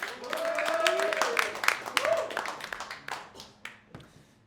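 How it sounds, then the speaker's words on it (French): An audience at an opening ceremony breaks into applause, a burst of scattered clapping that rises and then thins out, mixed with cheers and voices. "On peut lui faire encore une fois un tonnerre d'applaudissements."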